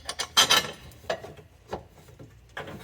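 Metal bolt being threaded by hand into a carrier bearing skid plate under a vehicle, a few short scraping and clicking bursts with pauses between them, close and fairly quiet.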